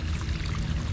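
Groundwater pours steadily into a French drain in a soggy yard, a continuous close rushing splash with no breaks.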